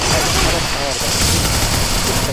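Rapid gunfire and explosive bursts from a shooter video game, with grenades going off, dense and continuous at close range while a voice is heard talking over the shooting.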